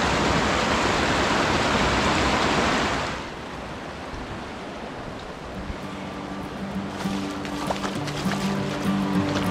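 Porcupine Creek rushes loudly along a mountain trail as a broad, steady wash of flowing water that drops to a softer, more distant murmur partway through. Faint tonal sounds rise near the end.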